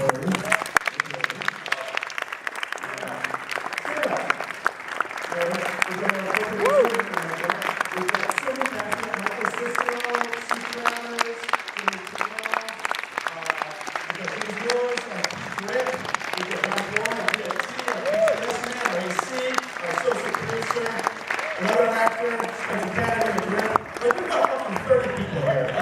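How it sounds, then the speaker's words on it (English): Sustained audience applause fills a Q&A event hall, dense steady clapping from a crowd continuing for the whole stretch with some voices mixed in underneath. "So let's give them all a round of applause."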